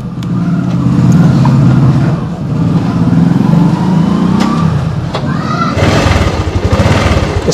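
A 2016 Bajaj Avenger 150 Street motorcycle engine cranks and catches, settling into a steady low rumble with a few throttle blips; faint voices murmur in the background.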